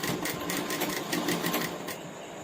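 A sewing machine runs stitches along a panjabi collar in a rapid, even mechanical patter of needle strokes, close and continuous before stopping near the end.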